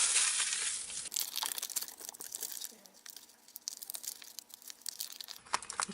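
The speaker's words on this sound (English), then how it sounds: "because I crinkled up the foil, it makes it a little bit more fragile, so I'm peeling it up carefully." Crinkled foil peeled slowly off glittered cardstock, a close, continuous crackling and tearing rustle lasting several seconds, with no voice.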